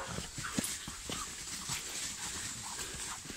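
Dogs whimper faintly amid soft outdoor background noise in a wood, with occasional light hoof clops from nearby wild horses.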